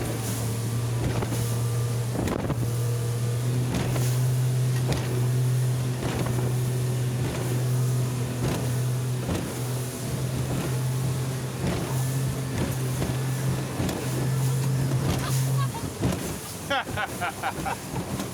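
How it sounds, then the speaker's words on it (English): A 2006 Seafox Cuddy Cabin boat runs flat out inside a channel, its engine droning steadily under heavy wind buffeting and rhythmic hull slaps, with voices talking over it throughout. "we're going to bring it inside the channel so we can run it at speed and give you guys a top speed"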